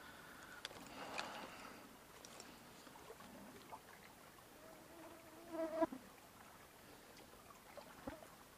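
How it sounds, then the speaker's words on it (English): Faint, thin buzzing of mosquitoes beside a small trout stream in midsummer, drifting in and out briefly over quiet outdoor background, with no voices. "Mosquitoes."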